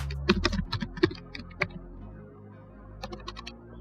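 Close, crisp keystrokes on a computer keyboard as an address is typed into an online scholarship application form, coming in quick uneven bursts with a short pause in the middle and no talking.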